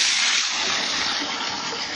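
Water gushing from a ripped-off hose during well drilling, a loud, steady, close rush of spraying water throughout.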